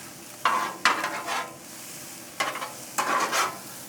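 Peppers, onions, ham, bacon and sausage on a 22-inch Blackstone XL griddle, sizzling under loud spatula scrapes in several bursts as they are pushed together; close and crisp, with no talking.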